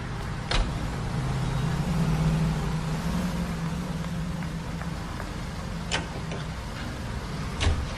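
A car driving in the LA Noire video game, a steady low engine hum running throughout with a few brief sharp knocks and clicks on top, no voices.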